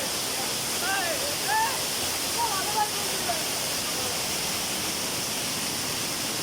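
Steady broadband rush of the Khoiyachora waterfall in Chittagong fills the scene, with a few faint chirping calls and distant voices rising briefly above the constant water noise.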